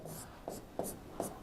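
Chalk or marker strokes on a board while a physics equation is written out, short scraping strokes arriving in a steady rhythm, close and quiet with no talking.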